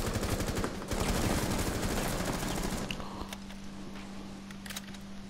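Rapid automatic gunfire from the video game Rainbow Six rattles in dense bursts for about three seconds, followed by a quieter stretch with a steady hum and a few scattered shots.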